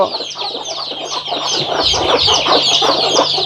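Native country chickens on a poultry farm cluck in a busy overlapping chorus, close and fairly loud, with short repeated calls and a low steady hum underneath.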